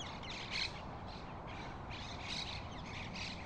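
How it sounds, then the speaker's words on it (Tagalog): Birds squawk and call in a park in Holon, Israel, with two brief louder squawks standing out over a steady outdoor background and no talking. "Ang maririnig mo na lang mga ibon."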